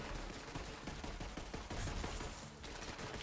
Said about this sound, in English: Let's try this pistol out.